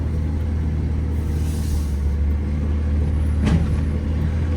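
An old truck with a 3-speed automatic transmission labors with the throttle floored, producing a steady, loud low engine rumble inside the cab, with one brief sharper rattle near the end.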